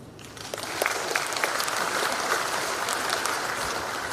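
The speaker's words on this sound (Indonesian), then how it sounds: "Ini yang harus kita tepuk tangan." A large audience breaks into applause during a talk by President Joko Widodo, a broad, sustained clapping that swells after the first half second and stays full for about four seconds.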